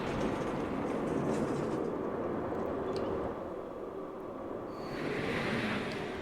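A roller coaster train in the video game Planet Coaster, a recreation of Outlaw Run at Silver Dollar City, rumbles and clatters steadily along its track, loud and continuous, easing off slightly midway before swelling again.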